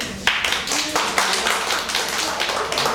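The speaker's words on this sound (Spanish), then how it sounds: "vamos a darle un aplauso a la niña." Classroom clapping for a girl, a few scattered hand claps and taps in irregular rhythm, fairly close and modest in volume.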